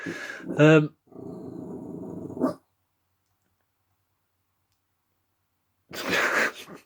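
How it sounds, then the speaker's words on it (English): The neighbour's dogs growl and gruff in short throaty bursts, with a sneeze-like snort, then silence before another rough burst near the end. "Gruffing the next door's dogs."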